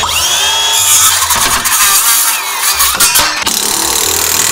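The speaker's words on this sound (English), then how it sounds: "Does that unnerve you when I use power tools?" A loud, close power tool whines and revs in bursts, its motor pitch rising and dropping as it runs.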